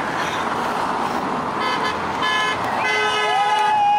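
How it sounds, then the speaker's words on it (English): A car horn honks in a steady sustained tone over street noise during a flag wave, with a rising siren-like whistle near the end and people talking in the background. "Thanks for the honk."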